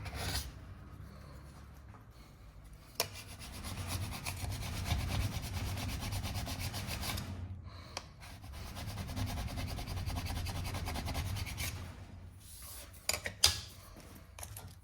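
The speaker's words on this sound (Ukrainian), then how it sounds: "прибрати пітекс, котрий ви накапали" Scraping excess P-Tex repair material off a ski base during ski tuning, heard as a steady, close rubbing scrape that runs for long stretches with brief pauses and a few sharp ticks near the end.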